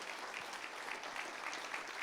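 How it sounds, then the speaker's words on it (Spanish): A church congregation gives steady, sustained applause to its newly ordained pastor, a dense clapping wash that carries on without a break, heard from some distance and fairly faint. "Iglesia, reciba con un fuerte aplauso"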